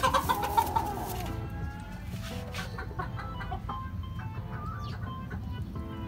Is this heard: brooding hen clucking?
yes